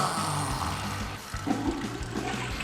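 A toilet flush sound effect plays loud and close, a rushing gurgle of swirling water lasting the whole stretch with no talking.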